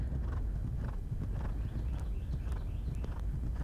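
Horse cantering over show jumps, with rhythmic hoofbeats and thuds under a constant heavy wind rush close to the microphone.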